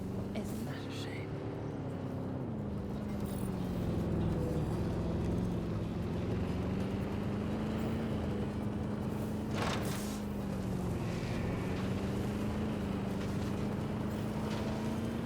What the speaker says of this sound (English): This truck is noisy as hell.